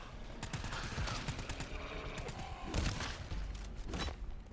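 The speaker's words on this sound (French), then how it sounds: "mais tout le monde tire" Rapid bursts of gunfire fill a firefight in the co-op shooter video game GTFO, with overlapping automatic shots and thuds running densely throughout at a loud, steady level.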